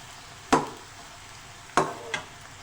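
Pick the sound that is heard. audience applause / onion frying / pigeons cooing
onion frying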